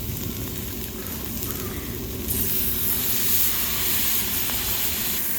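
Shrimp fried rice with vegetables stir-fries over big flames, giving a steady, close sizzling hiss and roar that swells louder partway through and keeps up without a break.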